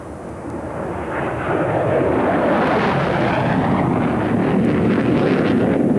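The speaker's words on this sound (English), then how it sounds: "By dumping fuel between the jet exhausts and lighting the reheat" An F-111 jet makes a dump-and-burn afterburner torching flyby at an air tattoo, a broad, loud roar that swells and holds with wind buffeting the microphone.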